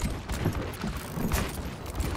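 Overwatch gunfire, McCree's revolver in match play: dense, continuous rattle of shots and game effects, loud and busy throughout with no clear gaps.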